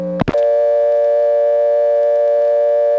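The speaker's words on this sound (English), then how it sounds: "But there are also some PBXs that have that dial tone, and that's what this is." Motel PBX dial tone from a 1977 telephone line recording, a brief click and tone burst at the start, then a steady, loud, unbroken dial tone.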